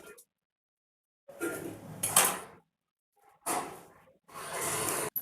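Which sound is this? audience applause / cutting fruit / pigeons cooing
cutting fruit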